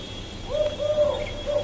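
Red turtle doves cooing nearby, a few soft low coos in a slow rhythm above a quiet steady background hum.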